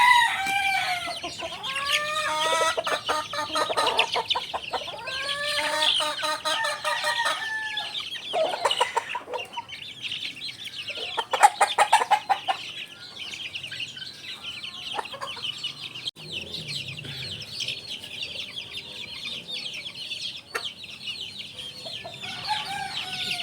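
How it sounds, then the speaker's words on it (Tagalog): Broody hens clucking while being hand-fed banana, with repeated close clucks, squawks and rooster-like calls in irregular bursts, a few sharp peck or tap sounds, and quieter stretches of ambient farmyard noise. "Gusto din ng mga broodhen namin ang saging kaya ayan, sinubuan ko na."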